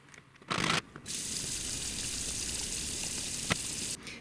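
Blended winter squash soup pours steadily back into a pot, a continuous close, wet rushing flow lasting a few seconds after a brief splash at the start.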